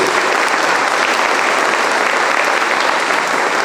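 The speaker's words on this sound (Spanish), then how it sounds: "Denle un aplauso a Dios." Church congregation clapping in praise, a dense, loud, unbroken wash of applause from many hands lasting the whole stretch.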